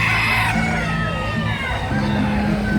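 A native rooster crows with harmonic calls over a steady, loud background din, with a second crow following near the end; a voice is faintly present.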